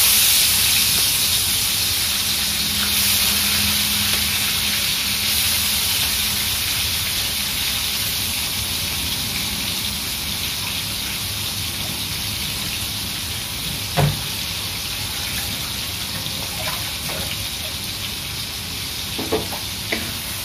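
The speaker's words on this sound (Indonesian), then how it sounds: "Kita goreng udang dulu, tapi jangan goreng lama sangat." Prawns fry in hot oil for a kam heong dish, a loud continuous sizzle and crackle with occasional stirring clinks near the end, no talk over it.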